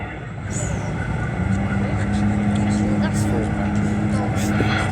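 A drag racing car engine drones steadily at a distance on Elvington Airfield, York, holding a low humming tone while a commentator talks over it.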